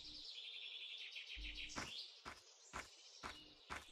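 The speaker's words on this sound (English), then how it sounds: "So there's a really, really annoying bird up in that area." Ambient jungle birdsong in the video game The Last Makaran, a steady high chirping trill with a series of sharper call bursts toward the end, at moderate level with no speech.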